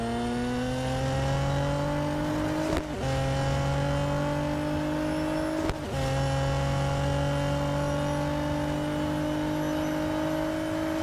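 A race car engine in the video game Real Racing 3 holds a steady high whine that climbs through the gears, with two quick upshifts briefly cutting the tone, loud and continuous without speech.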